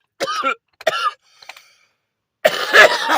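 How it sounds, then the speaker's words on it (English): A person coughs several times, with two short harsh bursts, a faint throat-clear, then a longer, louder rasping cough. The sounds are close and separated by silence. "There's the cough."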